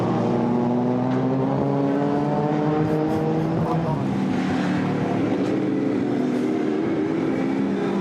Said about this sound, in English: We have had effectively the first 15 minutes of racing here at Oulton Park